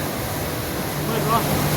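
An indoor waterfall in a shopping mall makes a steady, even rushing wash, with voices faintly present.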